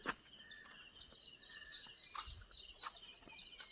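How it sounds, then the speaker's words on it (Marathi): Small birds perched on a wire chirp and tweet in short, scattered bursts at a moderate distance, over a faint steady background hum. "पक्षी बसलेत तारेवरती"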